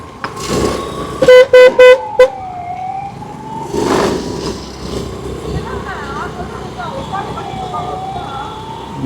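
A car horn honks several short, loud blasts in quick succession amid street traffic at a traffic light, with voices talking and a faint siren-like tone nearby.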